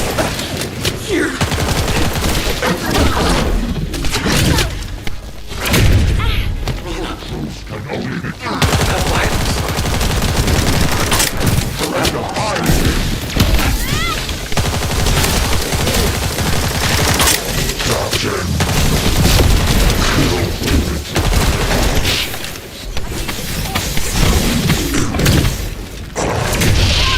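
Sustained gunfire and heavy booms from a chaotic battle in The First Descendant, a dense, loud barrage with rapid bursts and thuds running throughout, shouting voices faintly mixed in.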